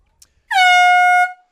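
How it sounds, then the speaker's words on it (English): A single loud air horn blast from the press booth at a high school boys lacrosse game marks the end of the half, sustained for under a second and clean against near silence. "So we have the air horn up here at the booth next to us"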